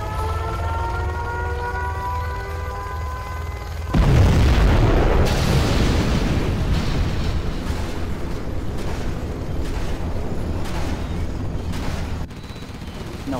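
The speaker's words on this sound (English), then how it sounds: "We have launched our nuclear missile." A nuclear missile detonates in the Command & Conquer Generals Zero Hour strategy game, a sudden deep boom that swells into a long roaring rumble of debris and crackle after a few seconds of ambient tones and faint game chatter.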